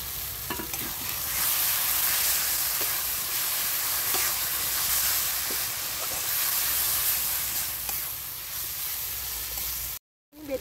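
Ground onion paste goes into a hot pan of oil already seasoned with Kashmiri chili powder and turmeric for an egg curry, giving a steady, loud hissing sizzle that cuts out briefly near the end.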